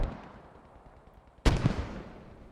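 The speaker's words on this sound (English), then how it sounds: "Mortar's still going down." A single loud, sharp blast of mortar fire in the Post Scriptum war game, a sudden broadband burst after a low rumbling background, with a rolling tail that fades over the following second.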